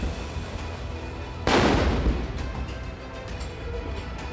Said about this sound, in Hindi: तोप से निकले एक एक गोले की हुंकार ने दुश्मन को दी चेतावनी।